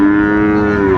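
A Sahiwal bull at a cattle market in Dinajpur lets out one loud, close, sustained moo with a steady, deep tone, heard alone.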